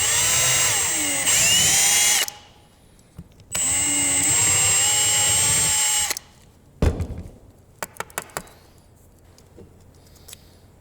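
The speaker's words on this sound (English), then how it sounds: "I drilled these out just a tiny bit." Power drill boring out holes for M4 hardware on a C6 Corvette drift build, two loud sustained whining runs of a few seconds each, followed by quieter clicks and handling noises.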